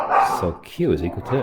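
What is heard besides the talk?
dogs fighting in the background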